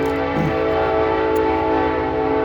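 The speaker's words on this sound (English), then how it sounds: "always great time with the trains here. I'm sure he hasn't finished building the horn." A train horn sounds in a long, steady, loud blast with layered harmonic tones, carrying continuously throughout without pause or talk.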